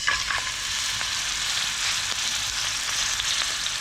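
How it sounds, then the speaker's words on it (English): Meat searing in a pan gives a continuous, loud, close sizzle with a dense, even hiss and a few faint crackles throughout. "Okay, we're gonna sear the meat first."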